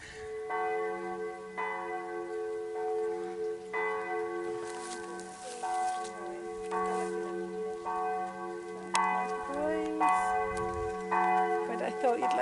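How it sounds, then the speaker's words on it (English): Church bells peal outdoors in a steady sequence of struck tones that ring and overlap, heard from a moderate distance. Faint background sounds and a brief voice come in near the end. "I thought you'd like to hear the bells as well."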